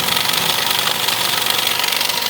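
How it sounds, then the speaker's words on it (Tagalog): Suzuki Celerio engine idling with strong vibration, a loud, close, continuous rough rumble with a fast pulsing rattle and no voices. "kaya na malakas ang vibration ng makina"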